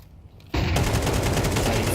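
Sustained automatic gunfire erupts after a brief quiet lead-in during a Counter-Strike 2 match at an Asia-Pacific RMR tournament, dense and loud for the rest of the moment with no talk.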